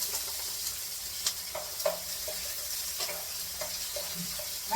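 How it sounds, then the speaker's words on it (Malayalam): Small shallots sauté in a pan, a steady soft sizzle of frying with occasional stirring scrapes and clinks, fairly quiet and close with no talking. "നമുക്ക് ചെറിയ ഉള്ളിയിട്ട് നന്നായിട്ട് അങ്ങോട്ട് വഴറ്റുക."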